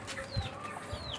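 Chickens cluck in short, close bursts, with a couple of higher rising calls over a steady farmyard background, no voices present.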